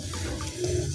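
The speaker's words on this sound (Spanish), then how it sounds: "Y disculpen el ruido, es que estoy lavando." Tap water runs steadily while dishes are washed up in a home kitchen, a close, continuous rushing hiss with no voices over it.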